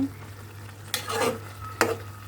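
Cumin seeds sizzling in hot oil for a small-fish chorchori: a soft, continuous frying hiss close by, broken by two sharp crackling bursts.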